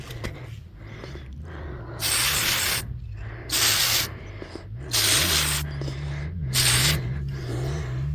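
A spray paint can hisses in four loud bursts of about a second each while painting fashion dolls, separated by short pauses, over a low steady hum.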